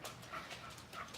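Old English bulldogs pant hot and hard, a quick, soft, breathy rhythm of short huffs, close by and fairly quiet.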